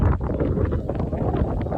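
Strong wind buffets the microphone in a loud, continuous low rumble with gusty fluctuations throughout.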